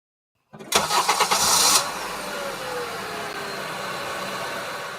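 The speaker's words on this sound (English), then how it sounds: "The engine roared to life" A car engine cranks with a rapid stuttering rhythm for about a second, then catches and settles into a steady, loud idle that continues to the end.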